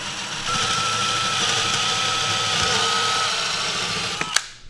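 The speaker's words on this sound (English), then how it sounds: "Now you want to take your drill, make sure your bit is big enough that your jigsaw blade can fit in it." A power drill bores an entrance hole in wood for a wood duck box, running as a steady, close whine for about four seconds before winding down with a couple of sharp knocks at the end.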